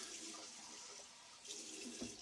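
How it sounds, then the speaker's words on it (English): Hot water poured over a mug of Williams shaving soap, a steady soft splashing stream running unbroken, faint and close, with no voices. "throw some hot water on the top of that"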